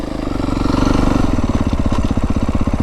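A Beta 350RR dirt bike, a 2025 X-Pro model, lugging in third gear at low speed, its single-cylinder engine thumping in a steady, loud, close pulsing rhythm that grows more distinct as revs settle.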